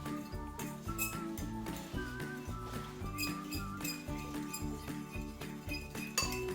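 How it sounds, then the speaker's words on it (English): A fork clinks steadily against a glass bowl while beating eggs for banana bread, a quick rhythmic tapping and chiming up close, with a faint background hum beneath. "Just give them a mix in with the fork"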